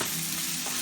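Chicken pieces sizzle in a hot pan with garlic for a creamy mushroom pasta, a brief, steady crackling fry heard close with no talking.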